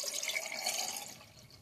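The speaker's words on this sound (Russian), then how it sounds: "А теперь это все заливаем нашим маринадом для копчения." Smoking marinade is poured over eggs in a container, giving a short, soft, bright trickle and splash of liquid that fades toward the end.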